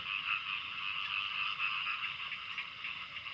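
Frogs croak at night in a dense, continuous chorus of overlapping calls, steady and moderately distant, with no one speaking.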